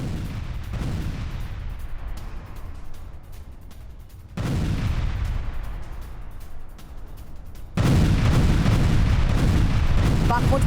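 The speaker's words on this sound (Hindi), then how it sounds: "यूक्रेन का आर्टिलरी ग्रेनेड लॉन्चर से यह हमला" Ukrainian artillery grenade launcher fire in a combat zone: heavy, rumbling blasts in distinct bursts that swell louder toward the end, with a dense, continuous low roar between shots.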